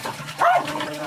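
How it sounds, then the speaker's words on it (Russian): A dog in a remote village gives a single short bark, loud and close, amid otherwise quiet surroundings. "Кому гавкаешь, собака"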